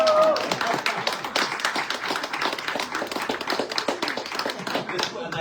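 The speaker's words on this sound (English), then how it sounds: "can we give Joanne a round of applause?" Guests at an authors' night in a bookstore clap together in a dense round of applause, sharp individual hand claps forming a steady patter with voices faintly underneath.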